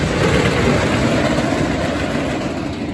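Ghost Rider wooden roller coaster train running at Knott's, outdoors during a heatwave: a loud, steady low rumble and roar of the train passing nearby, continuous and fading slightly at the end.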